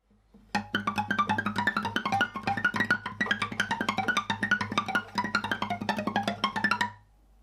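A classical guitar plays a busy passage from the second movement of Ginastera's Guitar Sonata, with rapid plucked notes in uneven bursts for about six seconds before the final notes ring out and fade.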